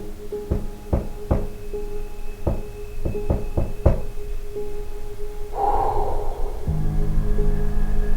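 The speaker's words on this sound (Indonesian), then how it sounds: "malam-malam tiba-tiba ada yang mengetuk pintu." Sharp knocks on a door at night come in two uneven bursts of about eight raps, close and distinct over a quiet, low background hum, followed by a soft rustle.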